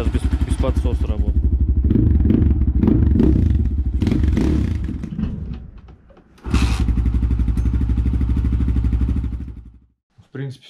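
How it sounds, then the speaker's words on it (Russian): A GR2 250 Optimum motorcycle engine idles steadily without choke after warming up during a first start and break-in, loud and close, with someone talking over it; it briefly cuts out before restarting and running on. "Мотор поднагрелся, подсос убрал."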